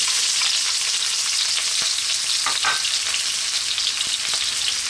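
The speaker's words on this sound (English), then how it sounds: "So in goes the onion." Onion frying in a hot pan for ribeye beef fried rice with garlic and mushrooms, a continuous loud close sizzle with a few faint stirring clicks, no voices.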